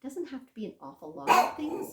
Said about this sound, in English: Sorry if you hear barking, it's because I have two of my puppies over here.